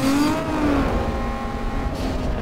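Lexus race car engine in Need for Speed Underground 2, a loud, steady racing drone with shifting revs throughout, close and continuous with no talk.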